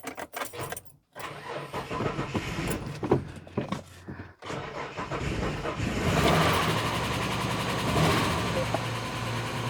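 A farm vehicle engine cranks and catches after a jump start, then settles into a steady mid-pitched idle, with keys jangling and rattling at the start.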